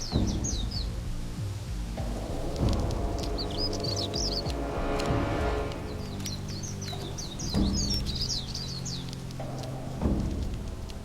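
Seabirds calling in repeated bursts of chirps and cries over a low, steady rumble of wind or surf along the Pacific coast, fairly close.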